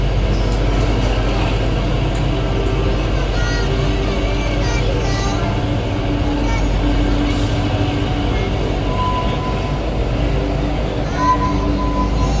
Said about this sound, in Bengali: তারপর আর ট্রেনটি কোথাও না দাঁড়িয়ে একেবারে পৌঁছে গেল সিমলা স্টেশনে।